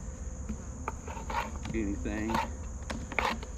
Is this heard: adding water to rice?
no